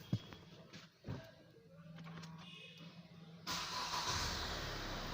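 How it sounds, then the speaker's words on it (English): A car engine cranks after an oil change, with a few faint clicks and mechanical noises before it catches partway through and settles into a steady, fairly loud run. "So let's start the vehicle now."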